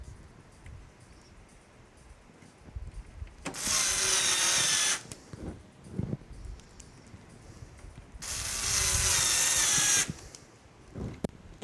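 A power screwdriver drives screws while assembling an all-white RTX 5080 PC, two separate whirring bursts of about a second and a half each, close and clear, with small handling clicks and taps between them.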